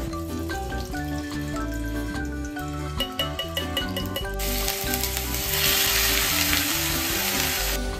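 Grated bottle gourd fries in ghee for dudhi halwa, a steady close sizzle with stirring that grows louder in the second half, under a tonal musical background.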